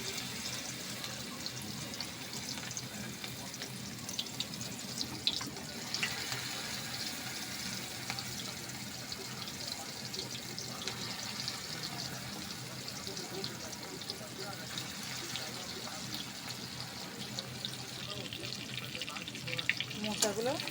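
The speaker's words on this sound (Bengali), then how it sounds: "এবার মোচাগুলো একটা একটা করে চামচ করে দিয়ে দেবো।" Banana flower pieces spooned one at a time into hot white oil, a continuous dense sizzle and crackle running throughout, close and steady, with a voice occasionally under it.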